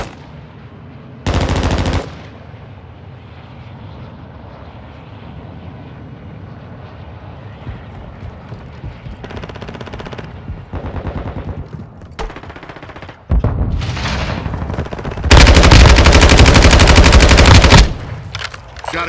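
Video game gunfire in Call of Duty Warzone 2.0 DMZ mode, with short bursts of automatic weapon fire amid ongoing combat ambience, ending in a long, loud sustained volley near the listener.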